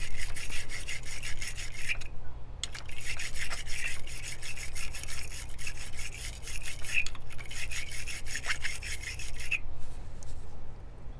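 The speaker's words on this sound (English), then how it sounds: "next I'm going to get the battery terminal cleaner and clean out the insides of each one of the terminal" A battery terminal cleaner scrubs corrosion from the terminals of a 2015+ Ford Mustang battery. Close rhythmic rasping strokes repeat steadily, with a few short pauses between bursts.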